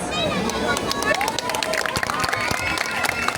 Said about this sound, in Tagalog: Bakit hindi po natin sabay-sabay palakpakan at bigyan ng hiyawan?